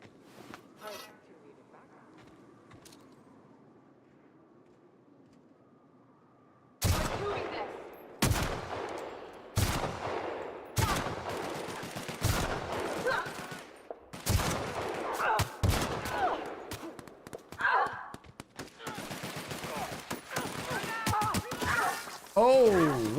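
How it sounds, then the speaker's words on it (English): Gunfire in The Outer Worlds: Spacer's Choice Edition, where after a quiet stretch of low background hum, a burst of loud, rapid shots breaks out in repeated volleys with crashes, while a voice talks over the shooting. "I shouldn't have shot them."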